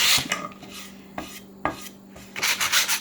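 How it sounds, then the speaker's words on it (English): Sandpaper scrapes in short scattered strokes along the edges of a design transfer, with brief rasping bursts separated by quiet gaps and a denser run of rubbing at the end. "you can take sandpaper and you can sand the edges"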